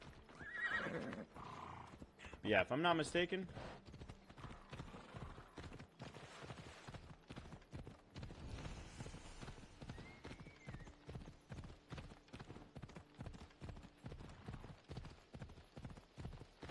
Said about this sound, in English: I'm gonna ride my horse over there.